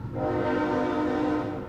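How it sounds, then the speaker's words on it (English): A loud train roars past close by, a steady heavy rumble with a sustained horn-like tone filling the whole moment without a break. "Is that another train? Another train."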